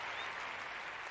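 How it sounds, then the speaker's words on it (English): An eager, impatient crowd cheers and applauds in a dense, steady wash of clapping and voices that holds at full level throughout. "Cheers sounded as the impatient crowd yearned for their entertainment."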